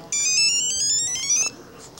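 A cell phone ringtone chimes a rising electronic melody of quick bright tones for about a second and a half, loud and clear, then stops.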